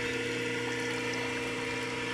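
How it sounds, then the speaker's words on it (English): A large garden water feature runs steadily with its pump, a constant, even wash of flowing water and low pump hum, moderately faint and unbroken, with no voices. "this is one of the biggest water features I put in"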